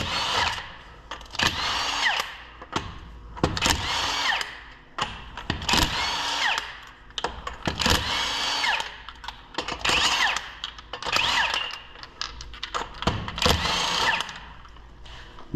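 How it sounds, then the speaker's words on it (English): A 750 foot-pound impact-style torque wrench spinning off lug nuts on a Ford F150 with 111,000 km, loud repeated high-pitched buzzing bursts of a few seconds each, separated by short pauses. "This is a 750 foot-pound end torque wrench."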